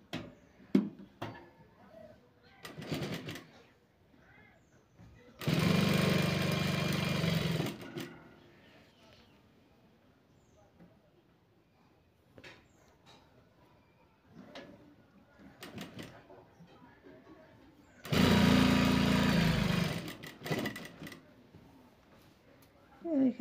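A sewing machine stitches a double seam on a long-sleeved blouse in two loud bursts of whirring, each a few seconds long, separated by quiet handling noises and soft scattered rustles.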